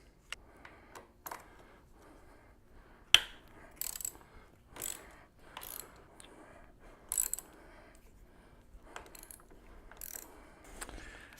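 Ratchet wrench loosening the top handlebar clamp on a motorcycle, a series of separate clicking bursts spaced irregularly with pauses between, close and fairly quiet.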